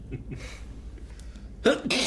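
A single sharp sneeze bursts out near the end, loud and close, after a quiet stretch with faint murmuring.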